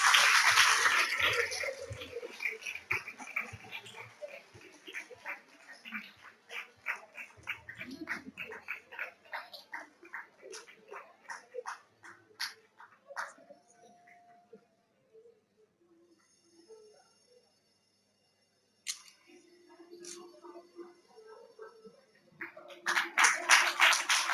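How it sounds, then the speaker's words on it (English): At a school felicitation and investiture ceremony, a burst of audience applause thins into sparse, distinct claps that fade to near silence, then a fresh round of clapping swells near the end. "Give them a big round of applause."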